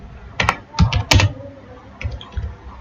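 Quick bursts of typing on a computer keyboard, a handful of close, crisp keystrokes in two short clusters with brief pauses between.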